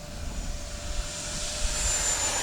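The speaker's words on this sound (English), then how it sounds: "This airplane, for some reason, has one of the craziest sounds." Freewing or FMS Yak 130 RC jet airplane passing overhead, a steady loud whooshing jet roar with a high whine, continuous and fairly close, no talking.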